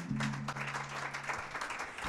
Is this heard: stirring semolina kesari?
no